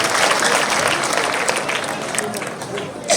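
Audience applause in Rwanda for the traditional healers' representative at the annual Abarangi day, a dense wash of many hands clapping steadily for a few seconds and swelling again at the end.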